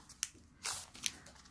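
Scissors snip open a Pokémon card booster pack, giving a few short crisp cuts and a louder rustling crunch of the foil wrapper, close and quiet, with no speech.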